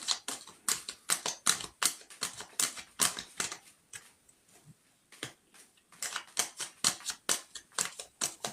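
A deck of tarot cards is cut and handled, giving quick, crisp flicking and slapping card sounds in close irregular bursts, with a short quieter pause midway.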